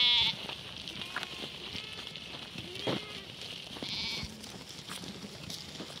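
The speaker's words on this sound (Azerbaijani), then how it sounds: "Yəni, qoyunlar da bunlardır." Sheep bleating in a flock of ewes with lambs, with several bleats rising near and far over scattered shuffling and faint background noise.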